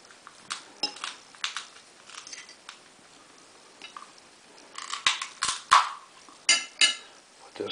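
Metal utensils clink and scrape against plates as mashed potato and sauce are served out for a family Christmas dinner, a string of close, light taps and chinks that grow busier toward the end.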